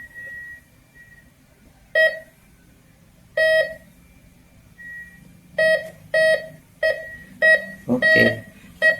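A gold-prospecting MD 4030 metal detector gives short electronic beeps, an isolated few at first and then a quick run of repeated tones, close and clear over a low background hum.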